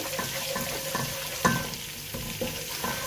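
Chicken Manchurian sautéed lightly in a pan makes a soft, continuous frying sizzle with rhythmic stirring strokes and one sharper clink of utensil on metal, heard alone without talk.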